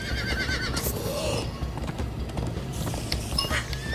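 A horse whinnies loudly up close in the video game Minecraft: Story Mode, then hooves clatter in a quick gallop, with another neigh rising near the end.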